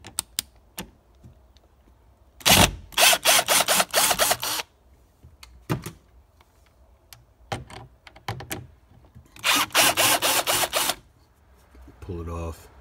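A power drill backs screws out of a 2021-23 Ford Bronco door panel in two long whirring bursts, close and loud, separated by quiet gaps with scattered clicks and handling noise.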